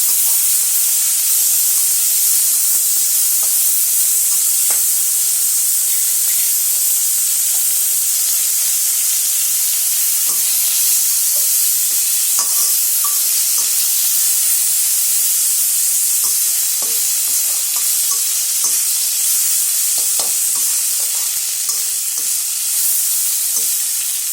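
Tomatoes sauté in a pan for idli kurma, a loud, constant hissing sizzle with scattered spatula scrapes and pops running throughout, close and without talk.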